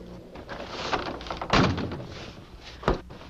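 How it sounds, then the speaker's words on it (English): A door is pushed shut, a dull thunk with a heavier thump at the close and another knock shortly after, over low background noise. "Well, why don't you shut the door?"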